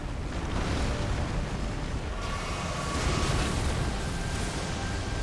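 A dragon's ground strike followed by a late explosion in the Elden Ring fight against Old Dragonlord Placidusax: a continuous, dense roaring blast that stays loud and sustained throughout.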